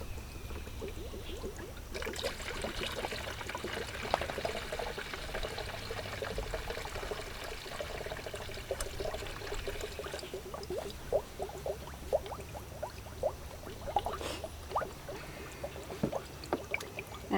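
Liquid coolant glugs and trickles steadily into the cooling system of a 1999 Chevy Metro, poured from a large bottle, with a continuous close watery flow and small splashy bubbling bursts throughout.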